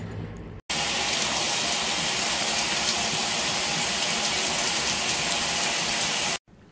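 A frozen, cracked shower valve leaks with a steady, loud rushing hiss of water that starts abruptly, runs on unchanged, and cuts off near the end.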